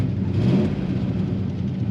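A 1970 Dodge Super Bee with a 383 Magnum V8 idles nearby, a steady low rumble and whir with no talk.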